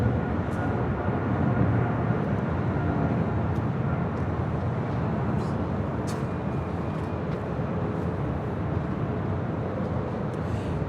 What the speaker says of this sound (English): This is China Southern Cargo Flight 472 departing to Guangzhou on a 777 freighter.